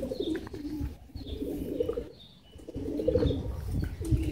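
Pigeons coo in low, throaty phrases, several soft calls close by with short pauses between them.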